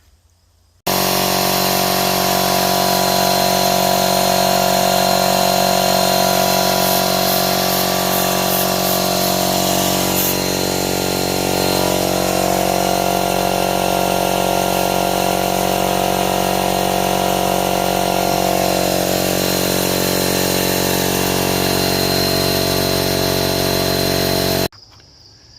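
A small Chicago Electric power tool from Harbor Freight, used on a rusty Ford Ranger frame, runs continuously with a loud, steady mechanical whine and rapid buzzing for about twenty-four seconds before stopping.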